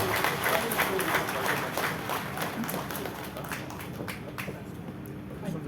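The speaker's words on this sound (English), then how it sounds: "Ladies and gentlemen, please give a big round of applause." At a National People's Party political event in Meghalaya, a crowd gives a round of applause for the Chief Minister. The clapping is dense and sustained, with crowd murmur and background voices, and it slowly thins toward the end.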